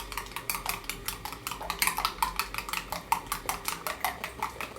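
A utensil stirs puree into egg yolks in a bowl for homemade pasta, giving rapid rhythmic scraping clinks against the bowl with a steady beat and a few brief pauses.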